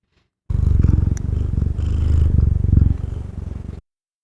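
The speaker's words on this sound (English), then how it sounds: "This is one of the cats listed in the credits, and that appears in the monitor." A house cat purrs loudly and close up in a steady rhythmic rumble, with a faint clatter partway through and silence before and after.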